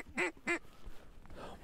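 Ducks quack twice, loud and close, during a public-land mallard hunt, followed by faint wingbeats and rustling in the marsh.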